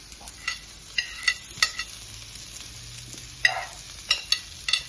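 Vegetables with carrots are stir-fried, giving a low steady sizzle broken by sharp metallic clinks and scrapes of a spatula against the pan at irregular intervals.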